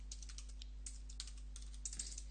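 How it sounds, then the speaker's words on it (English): Typing on a computer keyboard during a computer graphics lab session, quick light key clicks in irregular bursts over a steady electrical hum. "having typing problems as usual"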